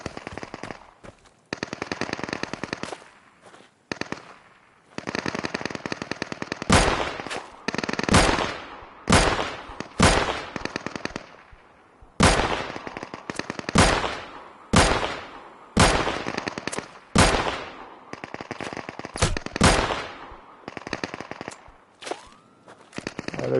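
Automatic rifle fire in the video game Deadside comes in loud, sharp bursts and rapid volleys, repeating over and over with short pauses between.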